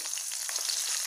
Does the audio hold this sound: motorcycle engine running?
no